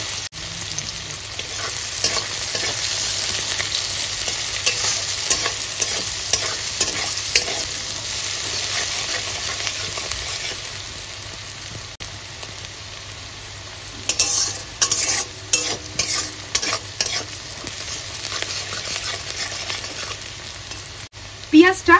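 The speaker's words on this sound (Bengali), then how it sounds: "এবার দিয়ে দেব ওই তেলেই কেটে রাখা পেঁয়াজ কুচি।" Chopped onion hits hot oil with nigella seed tempering for a tilapia curry. It sizzles loudly at first and settles into a softer fry, with intermittent spatula scrapes and stirring clatter later, no talking.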